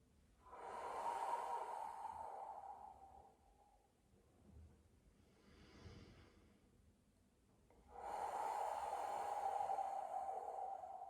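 Slow, deep breaths during a Pilates exercise: a long loud exhale, a softer breath in, then another strong exhale, close to the microphone.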